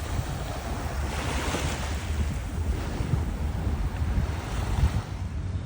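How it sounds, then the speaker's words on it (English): Surf rolls in steadily at Icaraí beach in Niterói, near Rio, a continuous broad wash of breaking waves with gusty wind rumbling across the microphone, no voices. "Check it out, the beach."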